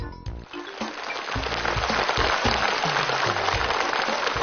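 Studio audience applause for young contestant Song Yiwen, number one, on a children's variety stage show, a dense steady clapping that swells after a brief start and holds loud throughout, with music tones underneath.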